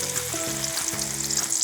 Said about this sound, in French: petite astuce pour savoir quand la friture est bonne, ça fait de moins en moins de bulles